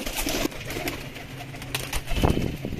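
Pigeons coo close by at a pigeon breeder's loft in soft, throaty bursts over a busy background of rustling and muffled activity.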